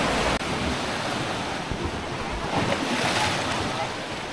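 Ocean waves at Padang Padang Beach in Uluwatu, Bali, on a bright sunny evening, a steady broadband wash of surf with wind buffeting the microphone throughout.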